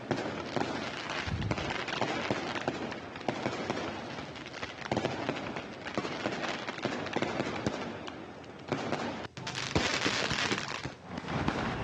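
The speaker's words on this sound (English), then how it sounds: "People in northeastern Assam celebrated the occasion with burning firecrackers and lighting lamps." Firecrackers burst continuously during Diwali celebrations in Assam, a loud, dense crackling barrage of overlapping pops and bangs that carries on without a break.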